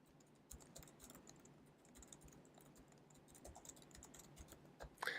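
Steady typing of a short message on a computer keyboard, a continuous patter of close, fairly quiet key clicks that picks up with a louder burst of keystrokes at the end.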